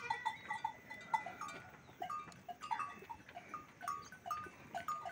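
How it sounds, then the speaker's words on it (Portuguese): Castrated billy goats in a pen on a small family farm in the hot, dry Brazilian northeast bleat repeatedly at a distance, faint calls spread irregularly over quiet outdoor background. "Lá são os bodes que a gente capou, ó."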